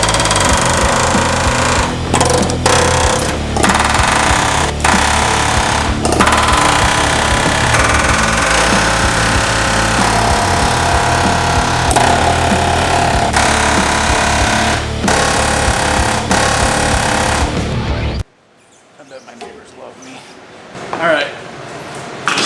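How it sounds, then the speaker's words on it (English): A pneumatic air hammer knocks out a leaf spring shackle bushing on a turbo LS S10 pickup, a loud continuous rapid rattling hammering with brief pauses, cutting off abruptly near the end into quiet shop noise. "guess I'll get the old air hammer down here and start knocking this one out too"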